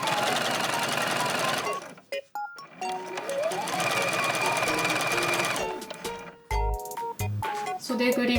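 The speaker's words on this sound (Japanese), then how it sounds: "まず襟から縫っていこうと思います。" Electric sewing machine stitching the collar of a lined dress, fast mechanical whirring runs that stop and restart, with short clicks and a few tonal beeps between the stitching bursts; a voice is briefly audible.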